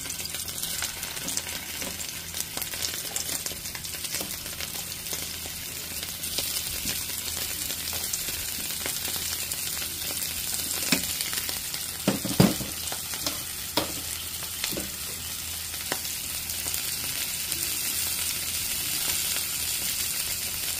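Dried fish (bulad) fries in a pan with a constant bright crackle and sizzle, with occasional louder pops and scrapes of stirring, heard up close and without speech.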